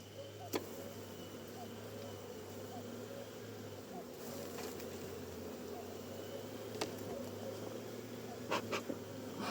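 Honeybees at an apiary hive make a steady, close buzzing drone that runs unbroken throughout, with a few faint clicks and taps on top.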